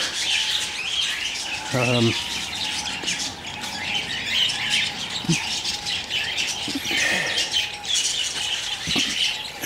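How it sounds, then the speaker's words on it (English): Doves with pink heads calling around a caravan campsite at Drummond Cove, Western Australia, repeated squawks and chirps over steady outdoor background noise, moderately near, with a brief voice also present. "there are some doves which are very strange. They have pink heads."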